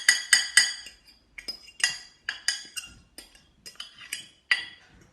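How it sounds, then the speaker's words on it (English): A fork mixes a peppermint cream mixture into icing sugar in a bowl, making a series of sharp metallic clinks and scrapes in uneven bursts, close and clear with no talking. "All you do then is mix it with the fork as long as you can to bind it."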